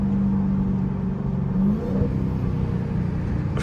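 A Dodge Hellcat's exhaust rumbles low and steady in traffic, swelling briefly as it revs on a downshift before settling back to a deep idle-like drone, close and loud with no talking.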